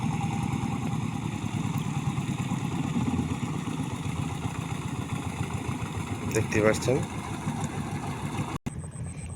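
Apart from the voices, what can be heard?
fishing boat engine on a river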